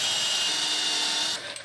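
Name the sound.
power drill countersinking a screw hole in wood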